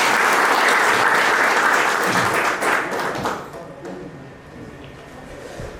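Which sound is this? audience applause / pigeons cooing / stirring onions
audience applause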